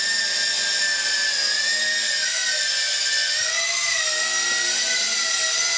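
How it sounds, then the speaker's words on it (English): A Yi Zhan X6 Tarantula quadcopter with brushed motors flies nearby, giving a loud, continuous high-pitched whine whose pitch wavers as the motors throttle up and down. "It's very noisy due to the brush motor."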